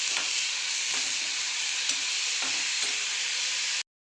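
Salted tomatoes fry in a pan for chutney, giving a loud, even sizzle broken by several soft stirring scrapes, then cutting off abruptly.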